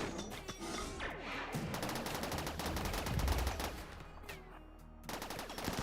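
Rapid gunfire from a pikeman in a RimWorld-style colony game, dense crackling bursts layered over a busy battle soundscape with thuds and impacts, continuous and fairly loud throughout.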